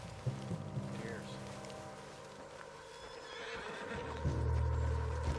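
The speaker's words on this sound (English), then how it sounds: "What's got this horse spook, huh?" A horse whinnies and snorts in the video game Red Dead Redemption 2 amid a quiet outdoor ambience, with soft hoof clops and a low hum, ending in a louder burst of noise.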